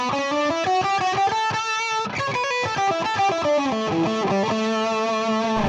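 A distorted electric guitar through the lead channel of a PRS 2-Channel Custom amp, reverb off, plays a fast lead line of rapid, sustained notes, loud and saturated with no voices over it.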